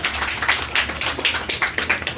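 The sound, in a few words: audience applause welcoming a student at an award ceremony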